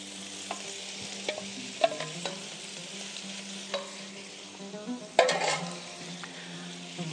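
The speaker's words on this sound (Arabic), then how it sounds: "قلينا الشوابي هذم" Peppers fry in a pan with a steady sizzle, punctuated by a few sharp clinks and scrapes as they are stirred.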